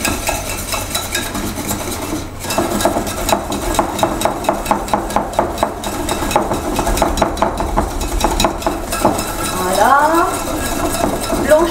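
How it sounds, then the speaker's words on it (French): A whisk or spoon works sugar into a bowl of mixture in a French kitchen, beating it pale for a cake: quick, steady rhythmic clinks and scrapes against the bowl, close and fairly loud throughout, with a brief pause early on. "Il faut donc bien remuer pour blanchir le tout"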